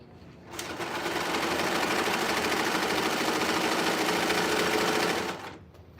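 A serger, an overlock sewing machine, runs steadily for about five seconds with a dense, fast mechanical whir that starts and stops abruptly. It is close and loud, with no talking.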